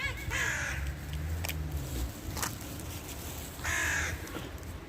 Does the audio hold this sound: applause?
no